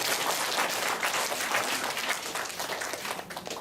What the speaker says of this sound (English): Let's applaud ourselves.